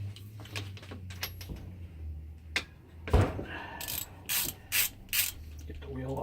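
Socket wrench ratcheting while working on a Kawasaki KE102 motorcycle, with short bursts of clicking pawls in a quiet workshop under a low steady hum.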